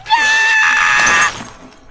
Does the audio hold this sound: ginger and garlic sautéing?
no